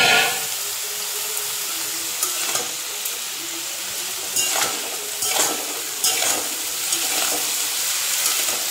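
Cauliflower, beans and potatoes sizzle steadily in hot oil in a pan, with a continuous frying hiss broken by several brief stirring scrapes and clinks, close and fairly loud.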